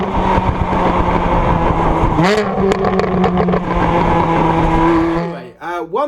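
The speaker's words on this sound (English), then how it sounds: "I can at least pump out some lovely engine noise" A car engine revs hard and loud throughout, with rising and falling pitch as it accelerates, then briefly drops off near the end.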